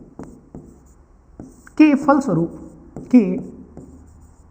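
Strokes on a board during a Hindi-language biology lesson on heredity and variation: faint, short taps and scrapes come between and under a male teacher's nearby speech.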